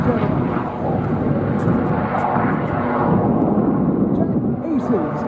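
Aircraft engines roar steadily at the Sun 'n Fun 2024 airshow, with P-51s taking the stage in a dense, rumbling wall of sound that swells slightly and stays loud throughout. Faint crowd and announcer noise sits under it.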